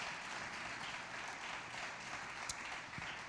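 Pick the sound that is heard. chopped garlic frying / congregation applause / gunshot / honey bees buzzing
congregation applause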